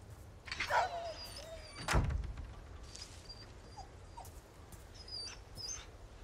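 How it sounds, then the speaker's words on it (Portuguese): Dog in the Resident Evil 4 Remake video game making a whimper near the start, with a sharp door-like thump around the middle and faint game ambience throughout; no speech. "Tem cachorro aqui."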